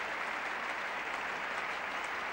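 A large cricket crowd at The Oval applauding Australian captain Ian Chappell during the 1975 England v Australia Test, a dense steady wash of clapping heard from a distance with no voices over it.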